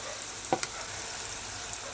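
Steady, soft sizzling of tomato paste frying in hot oil after garlic, with a couple of brief clinks of a utensil against the pan.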